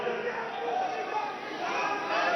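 Youth wing supporters at a political rally form a dense, continuous crowd roar of shouting and chanting, loud and close, with voices layered throughout.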